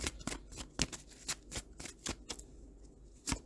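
A deck of tarot cards is shuffled and handled close up, giving a quick run of crisp, papery flicks and riffles at a steady pace, with no voice over them.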